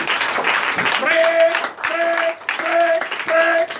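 A church congregation at a Sunday service claps and acclaims amid sung or chanted voices, the clapping mixed under loud vocal tones with a brief pause midway.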